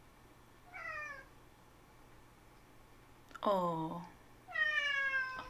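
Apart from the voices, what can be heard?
cat meowing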